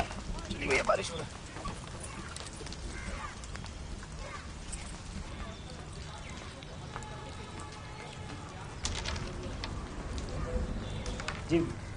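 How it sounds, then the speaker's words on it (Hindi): Steady rain falls in a dense hiss with scattered drips, continuous for the whole stretch, with a few brief louder knocks and sounds in the background. "बारिश हो रहा है।"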